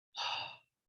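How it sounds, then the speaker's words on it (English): A person demonstrates breathing with one soft, breathy exhale, a brief airy sigh close to the microphone and otherwise silent. "The difference between breathing like this"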